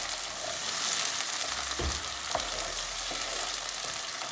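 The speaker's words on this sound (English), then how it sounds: "Now let's add the tomatoes and the tomato puree." Tomatoes and tomato puree fry in a pan for Mexican rice, giving a steady close sizzle with a few soft stirring knocks and scrapes throughout.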